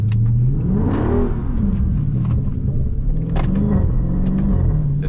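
A Dodge Scat Pack car drifting through turns on a wet, rainy road, its engine revving and rising in pitch with a steady loud rumble and whir that stays close throughout.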